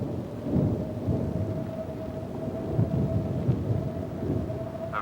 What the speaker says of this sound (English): It's a lightning strike